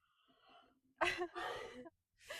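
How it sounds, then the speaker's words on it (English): A long, breathy yawn rising into a strained, voiced stretch, then a second drawn-out exhale, close and fairly loud, followed by another breathy start. "I'm gonna yawn."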